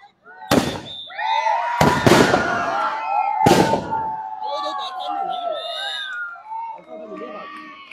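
Fireworks go off at the opening of a futsal tournament: three sharp, loud bangs in the first four seconds, each trailing into whistling crackle, followed by softer popping and hissing while a crowd chatters underneath.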